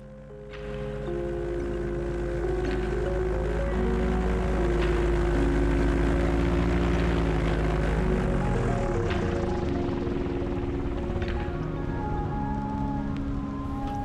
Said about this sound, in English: So you heard the engine there just switch off.